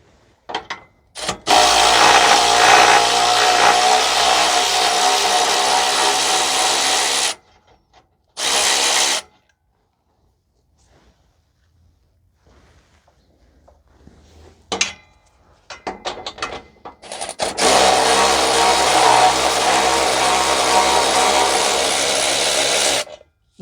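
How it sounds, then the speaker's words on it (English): An electric ratchet whirs loudly up close in two long bursts and one short burst on exhaust bolts of a 2015 Toyota Sienna 3.5 V6 during a catalytic converter replacement, with quiet pauses and faint clinks of handling between the runs. "See if I can bring my electric ratchet to loosen these further."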